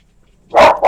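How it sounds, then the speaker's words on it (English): A dog barks twice in quick succession, loud and close, after a quiet stretch, each bark sharp and full-bodied with no talk over it. "Sorry about the barking."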